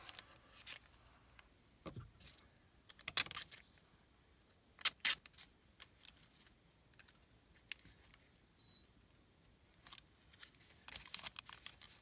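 Paper being cut and crinkled while making a decorated privacy envelope for a junk journal, with scattered soft snips, rustles and crinkles close by, separated by quiet pauses.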